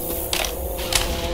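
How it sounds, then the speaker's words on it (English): A weapon reloads in Left 4 Dead 2: short mechanical clicks and clacks of the magazine and action, two quick bursts over a steady background. "I'm reloading."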